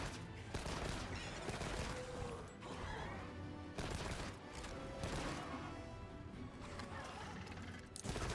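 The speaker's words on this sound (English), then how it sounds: "It reloads super quick. And now it has the separate fire modes like heavy bowgun. 3-round burst going on." Light bowgun firing in three-round bursts in Monster Hunter Wilds: dense clusters of sharp, loud gunshot cracks with mechanical clatter, repeating in quick bursts over a busy game soundscape.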